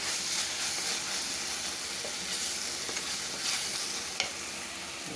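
Onions sautéing in a pan over medium heat, a steady soft sizzle and crackle with occasional scrapes of stirring, close and continuous throughout, with no talking.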